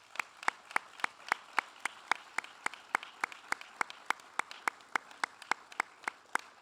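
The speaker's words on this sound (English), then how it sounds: "Please join me in a round of applause for these members and the example they set forth upon this class." Audience applause at a military graduation ceremony, heard as a single steady series of sharp, evenly spaced claps, fairly close and distinct rather than a dense crowd roar.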